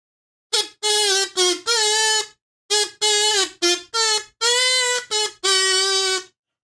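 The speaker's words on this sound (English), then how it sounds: "I'm going to give you a kazoo salute to you, and I'll do my rendition of Freebird" A kazoo buzzes a rendition of Freebird in loud, bright, reedy phrases of varying length, separated by short gaps. It is close and solo, with no other sound behind it.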